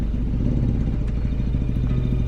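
A motorcycle rides off nearby with a steady, loud mid-pitched engine drone and a throbbing pulse running throughout, no voices heard.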